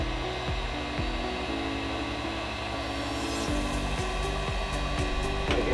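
Heat gun running steadily up close, a continuous blowing hum held at an even level, with faint clicks and small tonal shifts as it is handled.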